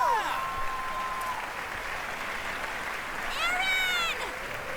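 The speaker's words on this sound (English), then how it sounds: "Cat's trying to sing along." A cat meows repeatedly in rising and falling cries while a song plays in the video game Trails Through Daybreak, the meows loud and close over steady background music.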